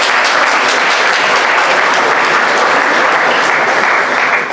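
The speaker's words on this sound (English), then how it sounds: "let's applaud his efforts." A school awards assembly audience applauds a student, loud, dense clapping filling the room and holding steady throughout without letup.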